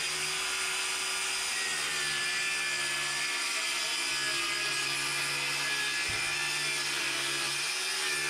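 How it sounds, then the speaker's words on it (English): A power saw cuts half-inch plywood for a window header in a pole barn house build, giving a steady, loud, high-pitched whine that holds nearly unchanged for the whole stretch with no talking. "Now I have to cut two pieces of this half inch ply to go in between them the same exact size."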